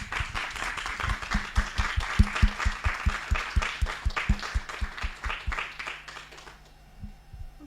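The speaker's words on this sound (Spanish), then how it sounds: "Vamos a dar un aplauso." An audience at an academic seminar and conference applauds steadily for several seconds, the dense clapping backed by a low rhythmic thump, then thinning out and fading near the end.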